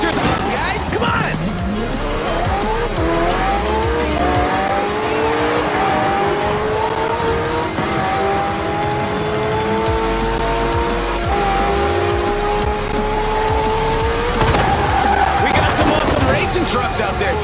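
Racing cars in Forza Horizon 4 skid through a street race lined with spectators, engines revving and rising in pitch across several gear sweeps as tires squeal and screech loudly, with crowd noise and a voice underneath.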